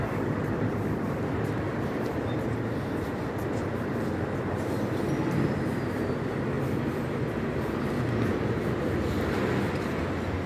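A subway train runs through a metro station in Seoul, a dense continuous rumble and rail roar holding steady and loud throughout, with no voices.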